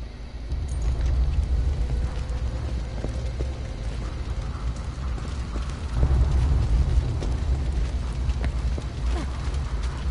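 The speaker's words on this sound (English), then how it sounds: "There's just explosions everywhere and everybody's dying" Constant explosions and chaotic combat in the co-op shooter Borderlands 2: a dense, continuous low rumble of blasts with scattered sharp bangs, swelling louder around the middle and staying steady to the end, with no voices.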